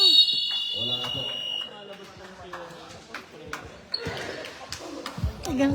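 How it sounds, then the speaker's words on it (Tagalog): A basketball game clock buzzer at a basketball match sounds out with a loud, sustained electronic tone at the start, then fades. Ball bounces, sneaker squeaks and an excited commentator's voice follow in a busy gym. "Buzzer na lang maririnig niyo."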